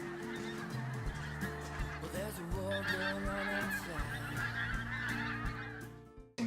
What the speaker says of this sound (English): this large flock of pink-footed geese flew in